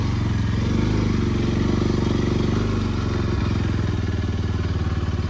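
A Bajaj NS200 motorcycle rides off-road along a rough, muddy trail, its engine droning loudly and steadily up close with a rumbling pulse and occasional clatter and thuds from the rough ground.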